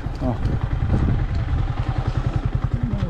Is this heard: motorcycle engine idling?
yes